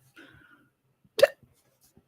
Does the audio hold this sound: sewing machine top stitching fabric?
no